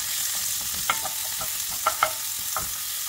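Ground pork fries with garlic and chopped onion in a pan, a steady close sizzling hiss broken by a few sharp clicks and scrapes of stirring, with no talking.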